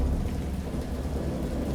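Thunderstorm with heavy rain in the video game Dagon, a steady dense patter with a deep rumble beneath, even and unbroken with no voices.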